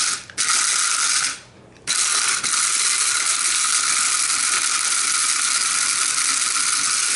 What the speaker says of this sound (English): we're going to put the cover on the grinder, and you just simply pulse this